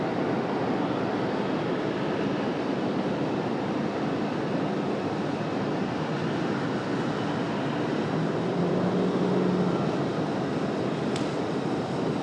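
A Delta airliner rolls down runway 23 right at Raleigh-Durham International, bound for LAX, with a broad, steady engine roar that holds strong and even, heard from a distance and without talk.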